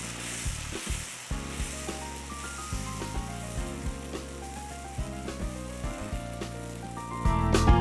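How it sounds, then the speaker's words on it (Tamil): Small millet dosa batter sizzles steadily in a hot pan, a continuous close frying hiss with faint scrapes and a brief clatter near the start, alone without talk. "சின்ன தோசையை அதில் ஊற்றி எடுத்துக்கலாம்."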